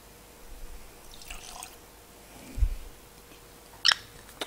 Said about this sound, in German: aus denen kann man deutlich schlechter einschenken als aus der normalen Whiskyflasche